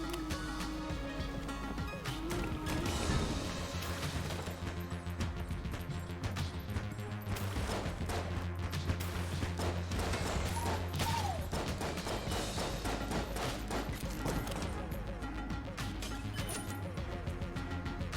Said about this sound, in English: Another guy shooting at me from a distance.